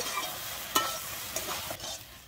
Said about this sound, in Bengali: জল দিয়ে আবারও কিন্তু একটু মিশিয়ে নিচ্ছি।